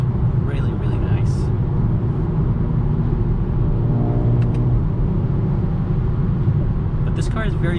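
A 2021 Mercedes-Benz A35 AMG exhaust produces a continuous low, deep rumble that holds steady throughout, with some muffled talk in the background.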